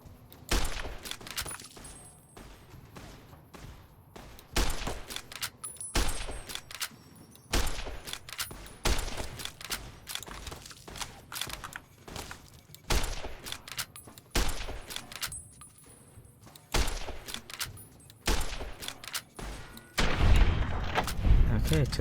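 Gunfire in Fallout: New Vegas comes as repeated sharp shots and short bursts over about twenty seconds, loud and close, with a person speaking briefly between them.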